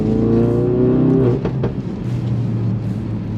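A Ford Focus RS Mk3 with a Revo Stage 1 remap accelerates hard in a loud, close engine drone that rises in pitch, then drops off as a few sharp exhaust pops crackle on the overrun.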